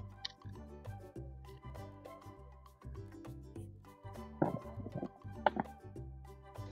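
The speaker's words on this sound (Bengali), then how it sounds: "সবজিগুলো কেটে নিচ্ছি।" A knife chopping kohlrabi and potatoes on a board, a run of close irregular thunks and taps with short pauses, getting a bit louder and sharper toward the end.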